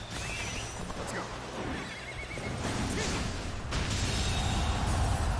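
A horse neighs in the Dynasty Warriors: Origins video game, a loud whinny set among dense battle noise, clip-clop hooves and whooshing effects.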